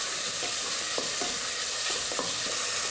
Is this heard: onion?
yes